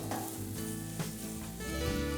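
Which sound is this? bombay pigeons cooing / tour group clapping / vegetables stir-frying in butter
vegetables stir-frying in butter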